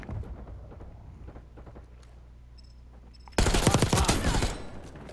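Gunfire in the video game Black Ops 6, a quieter passage with faint background talk, then a loud sustained burst of rapid automatic fire with overlapping shots and explosions.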